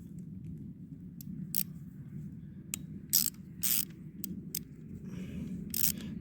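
Close, quiet ratcheting clicks come in short bursts as a 1/4 inch socket ratchet turns a screwdriver bit while working on a Briggs and Stratton generator motor, over a low steady background hum.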